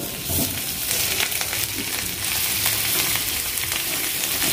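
Potatoes fried in a roasted masala of Kashmiri red chili and garam masala for a bread pakoda filling: a dense, steady sizzle up close, with faint stirring movements and no voices.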